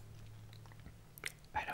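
Someone chews a crunchy MrBeast Feastables chocolate bar with crisped rice close to the mic, giving a few soft, quiet crunches and bites.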